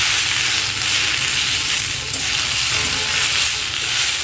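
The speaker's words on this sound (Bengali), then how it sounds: "খুব ভালোভাবে মশলাটাকে ভেজে নিতে হবে সবজির সঙ্গে।" Spices frying with vegetables in a pan give a steady, close, loud sizzle with faint stirring scrapes throughout, no voices.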